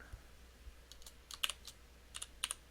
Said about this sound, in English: Like my clicky keyboard.